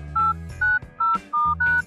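A telephone number is keyed in as five separate, evenly spaced dial tones, each a loud steady beep of about a quarter second with short silent gaps between.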